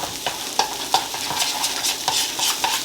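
Ingredients with a touch of salt being mixed in a bowl, a quick run of rhythmic scraping and tapping strokes, close and fairly loud, with no talking.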